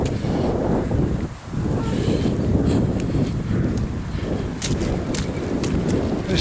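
A gust of wind buffets the microphone outdoors with a close, heavy, roaring rumble that continues for several seconds. It dips briefly, then surges again.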